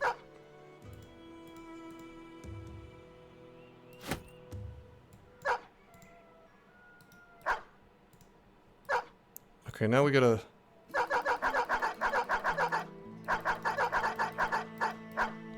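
Dogs bark in the video game Battle Brothers, sharp yips and barks popping up at intervals over game music and tones, with someone talking briefly and a dense cluster of rapid barking near the end.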